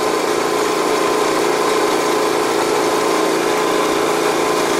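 An Energizer eZV3200P portable generator runs nearby, giving off a continuous, even engine hum with a buzzy mechanical texture and no change in pitch throughout.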